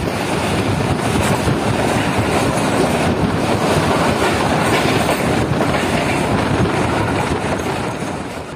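The Pak Business Express runs at night between Rohri Junction and Lahore, heard from inside an economy-class coach as a loud, steady rumble with rail clatter and wind noise.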